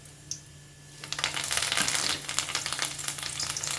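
Cumin seeds hitting hot oil in a kadai for tempering: after a quiet second, a burst of crackling sizzle with rapid popping spits that keeps going, close by and alone.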